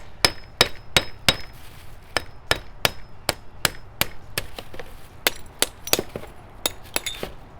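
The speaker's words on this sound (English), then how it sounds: "I'm flipping this upside down so I can hit the bottom of that vase." Sharp, regular knocks ring out as a hammer strikes the bottom of an upside-down glass vase to free a wet concrete planter, close and loud, with a few quicker clinking hits near the end.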